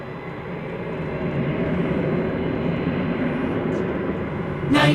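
A 31-year-old Boeing 767-300ER bound for Cincinnati at DFW airport, its engines giving a steady, broad roar at moderate distance that holds level and swells slightly at the end.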